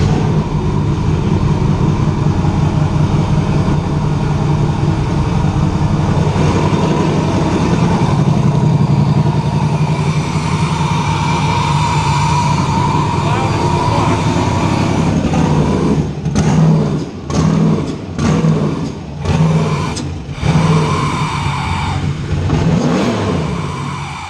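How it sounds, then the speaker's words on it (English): A car engine fitted with a turkey call throttle body, running lean, idles loudly and then revs in several quick uneven blips that sag and nearly cut out toward the end. "if I blip the throttle really fast, it literally just dies"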